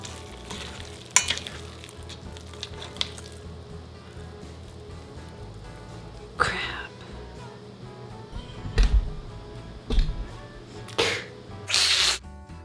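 Sourdough dough being mixed by hand in a bowl, with soft, wet squelching and stirring broken by a few sharp knocks and bursts, heard close and without speech.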